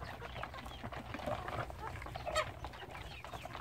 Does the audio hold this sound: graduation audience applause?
no